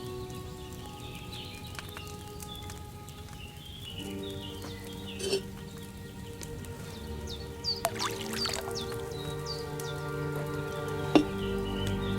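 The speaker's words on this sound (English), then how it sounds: "you have to pour the right base into the cauldron" Wine is poured from a pitcher into a cauldron in the video game Kingdom Come: Deliverance II. The pour is a steady trickling splash over sustained ambient tones, with a few light clinks and taps.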